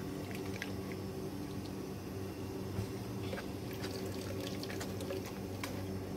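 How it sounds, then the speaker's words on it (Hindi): Mint paste water, strained and poured into a container for golgappa pani, gives a steady watery trickle and splash at close range, with a constant low hum running underneath. "अभी इसको हम छानेंगे और इसका पानी इसमें डाल लेंगे"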